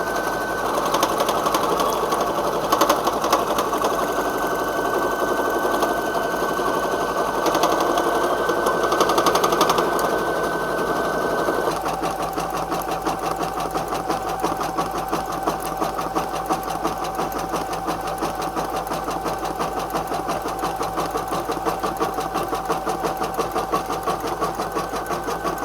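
An embroidery sewing machine stitches a zigzag satin stitch on a 3D bear ear, running as a steady, close, loud mechanical whir with a fast regular needle rhythm that changes pitch partway through.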